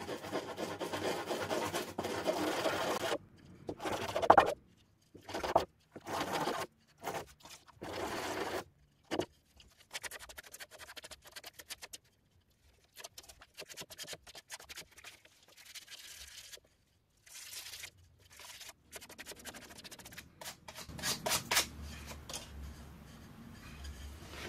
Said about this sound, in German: im Grunde genommen können wir jetzt die Enden schon mal schmirgeln